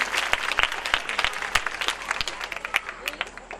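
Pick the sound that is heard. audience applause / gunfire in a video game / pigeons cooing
audience applause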